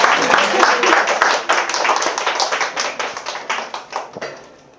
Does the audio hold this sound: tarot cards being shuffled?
no